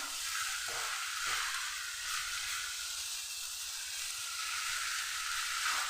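Coconut filling frying in ghee in a pan, a steady soft sizzle and hiss with a few faint stirring scrapes.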